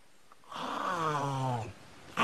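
A voice imitates the snore-like sound of a green anaconda swallowing prey, one long rough nasal rasp over a second, followed by a brief breathy burst.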